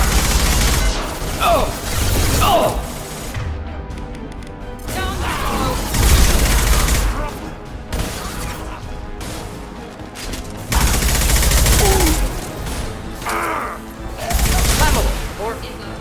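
Gunfire in Mass Effect 2 Legendary Edition combat, with repeated booming volleys and crashing impacts rising and falling throughout, mixed with game effects and occasional voices.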